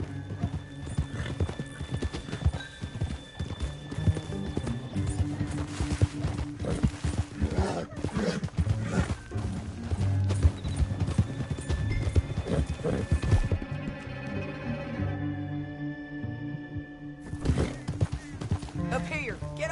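Horse hooves clip-clop steadily while riding in the Western video game Red Dead Redemption 2, with an occasional neigh. Voices talk intermittently over the close, rhythmic hoofbeats.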